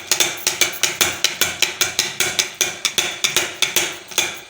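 A metal ladle strikes and scrapes a pan while kata kat is stirred and fried, about twenty sharp, evenly spaced metallic clacks in quick steady rhythm, loud and close, with no talk.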